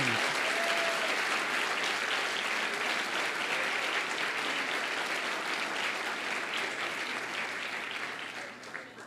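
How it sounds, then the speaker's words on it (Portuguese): A church congregation claps together in sustained, dense applause that fills the room, holding steady for several seconds before slowly fading toward the end, with faint voices mixed in. "Aplauda Ele!"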